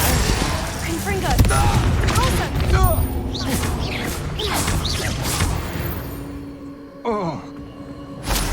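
Confringo, an explosive spell, cast repeatedly in a video game: whooshing, whistling sweeps and crackling bursts amid ongoing battle noise, with a voice talking over them.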